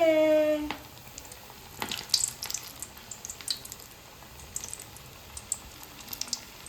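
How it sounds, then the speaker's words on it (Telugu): Potato, chili and onion bajji batter hits hot oil: a tone-like splash at the start, then a steady fine crackle of frying dotted with sharper pops and bubbles, close and moderately loud. "సో ఇప్పుడు బాగా వేడెక్కిన ఆయిల్లో మనము ఇందులో వేసేస్తున్నాము"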